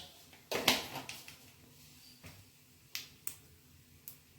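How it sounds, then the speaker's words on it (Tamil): Mustard seeds spluttering in hot sesame oil, a few sharp, sparse pops and crackles, fairly faint and spaced irregularly, with no talking. "கடுகு நல்லா பொரியட்டும்."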